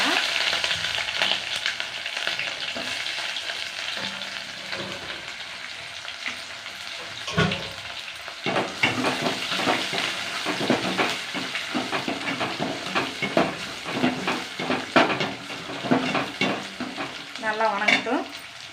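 Onions fry in hot oil with cinnamon, cloves, star anise and bay leaf while being stirred, a loud continuous sizzle with scraping stirs throughout and no talking.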